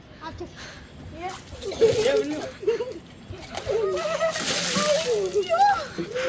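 Water splashed over a person as a prank, with sloshing splashes and excited voices talking and shouting over them throughout.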